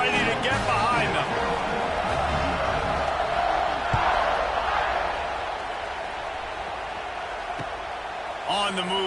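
A football stadium crowd roars in a broad, sustained wash before a kickoff, fairly loud and steady, easing slightly toward the end with a few thumps and whoops.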